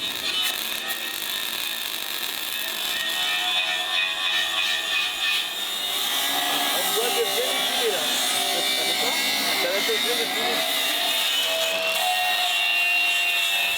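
A steel chassis reinforcement on an expedition truck is being cut with a power tool, giving a continuous grinding, rasping whine with some ratcheting texture, while people talk over it.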